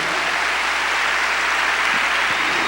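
Congregation applauding during an evening church service, a continuous bright wash of many hands clapping at steady loudness throughout, with no talk over it.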